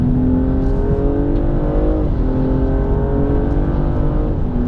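A BMW 235i race car accelerates hard on the Spa circuit, heard close from inside as a loud engine note climbing in pitch, dropping briefly at a gear change, then rising again.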